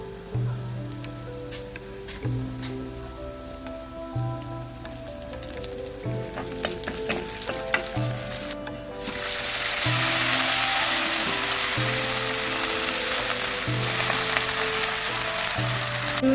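Fish fries in a pan for a taro leaf curry, a crackling sizzle that swells suddenly into a loud, dense, rain-like hiss partway through and holds to the end.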